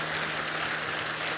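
Sustained applause from an audience at a First Ladies and Gentlemen summit event, dense and even hand-clapping filling the room, steady and fairly loud with no voices.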